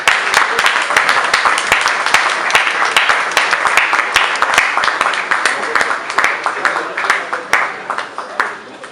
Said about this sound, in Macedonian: ве молам со еден аплауз да ја поздравиме менторката на Инервил клуб Куманово